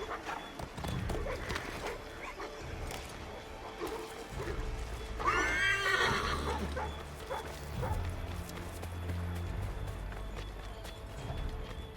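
Horse hooves clip-clop in a galloping rhythm in Assassin's Creed III, with a brief whinny near the middle and a dog barking amid busy game ambience, close and fairly loud.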